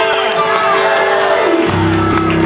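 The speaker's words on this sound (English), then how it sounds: "And a hearty huzzah for Flynn Rider!" A crowd at a Tangled show in Disneyland's Royal Theater at Fantasy Faire lets out loud shouts and whoops of cheering, a dense, continuous roar with a brief lull before it surges again.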